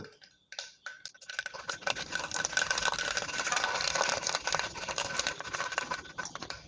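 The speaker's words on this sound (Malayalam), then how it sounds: "ഇപ്പോൾ കടുകൊക്കെ ഒന്ന് പൊട്ടി തുടങ്ങിയിട്ടുണ്ട്" Mustard seeds spluttering in hot coconut oil in a pan, a dense, close crackle of quick pops that builds after a brief quiet start and keeps going steadily, with no talking.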